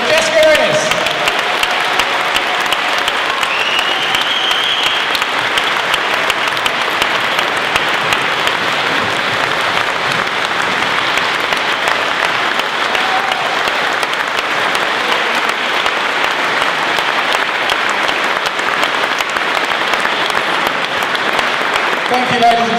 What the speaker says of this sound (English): put your hands together to our Olympic and world champion, heptathlete champion, Jessica Ennis